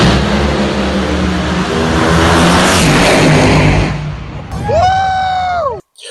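A Cagiva Roadster 125 motorcycle revs hard, its small engine buzzing loud and close through a sustained high-pitched pull, then dropping sharply before cutting off abruptly.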